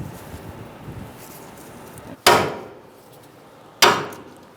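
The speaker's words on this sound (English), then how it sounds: "you're going to want to give that a few whacks to see if it comes out" Two sharp hammer whacks on a tie rod end of a 2010-2013 Kia Soul after its castle nut is removed, close and loud, spaced over a second apart above faint background noise.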